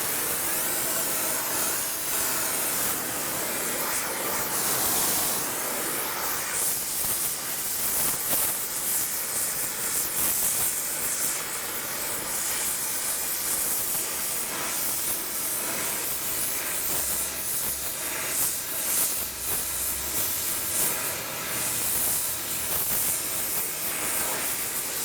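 A torch hisses steadily as it preheats broken transmission parts before welding, a loud, unbroken rushing roar with slight surges and fades, close by and alone without any talk.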